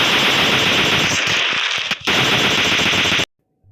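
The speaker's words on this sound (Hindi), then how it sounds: "हम इन बंदों पर फायर करते हैं" Rapid automatic gunfire from the PUBG Lite video game, a dense, loud continuous burst of shots that breaks off briefly and resumes before cutting to silence.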